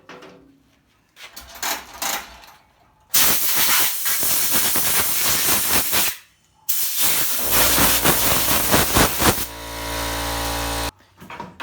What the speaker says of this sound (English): My compressor started and you don't want to listen to that.